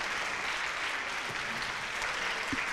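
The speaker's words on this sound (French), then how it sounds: "on vous applaudit une nouvelle fois" Audience applause after a talk at a neuroscience conference, a dense, even wash of many hands clapping, steady and sustained from start to finish with no voices on top.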